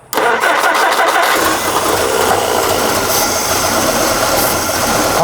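A Jeep CJ5 engine, prone to flooding, cranks briefly and then catches, settling into a loud, steady running roar close by.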